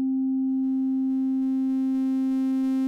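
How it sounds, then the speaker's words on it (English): A steady, pure sine-wave tone from an OP-1 Field synthesizer holds at one pitch for about three seconds, clean at first and gradually picking up faint buzzy overtones as the filter is turned down. "yes, we've got a sine wave"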